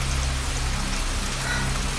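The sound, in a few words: heavy rain at night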